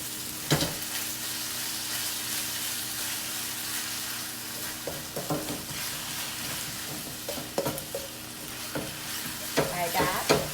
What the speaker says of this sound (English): And then stir together. Stir noodle together.